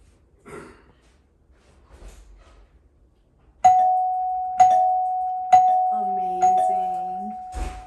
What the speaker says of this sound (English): I'm gonna hit the doorbell again.